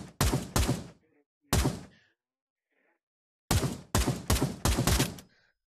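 Sniper rifle shots in the VR shooter Pavlov ring out as loud, sharp cracks, a pair, then one, then a quick string of three, each snapping off with a short echoing tail between silent gaps.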